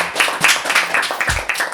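Delegates at a Model UN debate applaud after a resolution passes, a brief, close burst of clapping from a small group with uneven rhythm.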